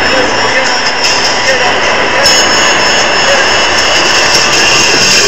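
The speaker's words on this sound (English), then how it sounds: "They want to stay away from that spinning blade." The combat robot Sabretooth spins up its blade in a robot fighting arena, a loud, steady, roaring whine that fills the clip, mixed with crowd and announcer noise.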